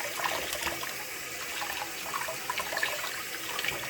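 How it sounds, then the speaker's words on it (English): Tap water runs over a dyed Easter egg to rinse off foam, a steady splashing stream with faint clinks, continuous and close. "he's just going to run some water over the egg"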